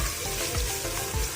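Ginger garlic paste sizzling in a hot pan while cooking an arbi baingan dish, a steady close hiss with soft stirring scrapes, heard alone.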